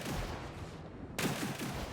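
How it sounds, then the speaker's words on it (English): Big turret guns fire aboard a Hammerhead corvette in the Star Citizen video game. Rapid, dense, continuous gunfire forms a loud, harsh roar with a brief renewed burst partway through, and no voice is heard. "The sound of big guns."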